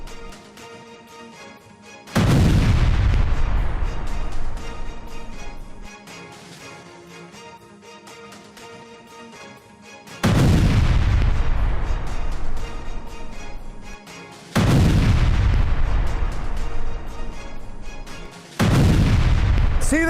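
A Mercedes electric car explodes in a series of loud, heavy blasts, four sudden booms spaced several seconds apart, each decaying into a rumbling tail, with no talk.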